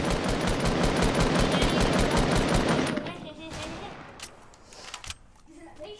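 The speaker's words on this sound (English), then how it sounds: "They shot a bullet." Rapid automatic gunfire from the video game Fortnite, a loud dense burst of shots for about three seconds, then scattered single shots and game sounds with a voice nearby.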